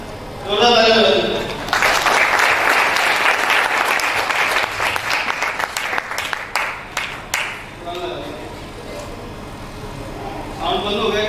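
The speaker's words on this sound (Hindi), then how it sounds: "जोरदार तालियां बजाइए" An audience claps loudly in a hall, a dense burst that thins into scattered claps and stops, with someone speaking through a microphone before and after.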